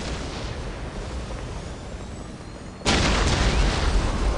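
Ork artillery fire in Warhammer 40K: Dawn of War: a low rumbling battlefield din that suddenly steps up into a loud, sustained blast of booming bombardment.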